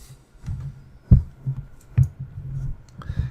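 Mouse clicks while saving a template in label design software, a few short, quiet clicks spaced apart with soft handling noise between them.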